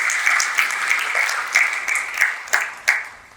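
Guests at a school's Silver Jubilee teachers' appreciation gala dinner clap together, a bright, moderately sized round of applause with several sharper individual claps popping out as it gradually fades.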